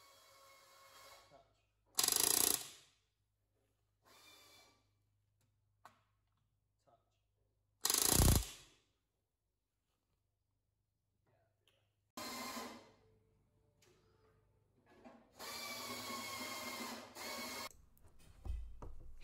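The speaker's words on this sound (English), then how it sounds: "we finish putting the rivets into the L section strengthener" A rivet gun drives rivets into an L-section strengthener on an aircraft bomb frame. It fires in several separate short, loud bursts with quiet gaps between them, and the longer bursts come toward the end.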